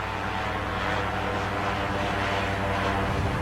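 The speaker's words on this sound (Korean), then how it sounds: "드론인가?" A drone flies overhead with a steady, continuous buzzing whir at moderate loudness, holding an even drone throughout with no talking.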